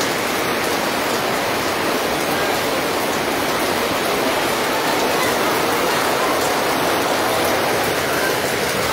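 Heavy rain beats down on an outdoor street market stall, a loud, unbroken wash of pattering drops that fills the whole stretch without a pause.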